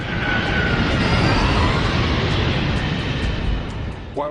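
An Airbus A320 jet, the TAM Flight 3054 accident aircraft at São Paulo in a simulation, roars with a loud, continuous engine rumble and whine that holds steady, easing slightly near the end.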